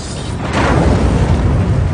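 A deep, rumbling boom swells and holds as a loud, continuous roar, like a large explosion.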